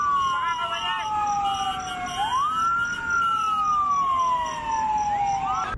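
A loud wailing fire truck siren rises and falls in long sweeps, with a second siren overlapping, as it passes close by responding to a fire.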